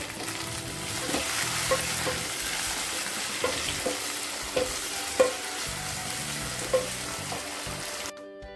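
Chopped onions and tomatoes sauté in a hot pan for a country crab gravy, hissing with a steady close sizzle while a spoon stirs now and then, scraping with a few soft knocks before the sound cuts off abruptly.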